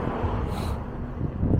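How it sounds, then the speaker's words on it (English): Steady wind buffets the microphone during a night ride on an Inmotion V11 electric unicycle through city streets, a constant rushing roar with no speech. "It is windy."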